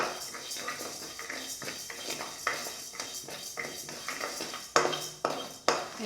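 A metal spoon scrapes and knocks steadily against a pan while toor dal is dry-roasted, with close, repeated clinks and a few sharper strikes toward the end.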